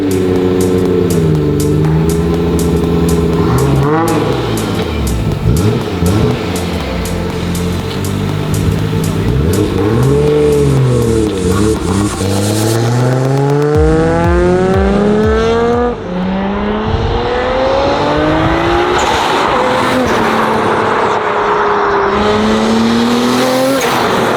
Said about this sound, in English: Good boost noise.